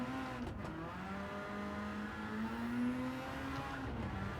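A Mazda RX-7 FD3S race car in Gran Turismo 7 drives the Tokyo Expressway, its rotary engine holding a buzzing, rising tone under braking and cornering, moderately quiet and steady with no voices.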